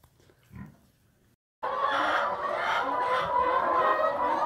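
A hen in a barn on an organic farm with cows and pigs, heard clucking among a dense chorus of other fowl that starts abruptly after a brief quiet, steady and fairly close.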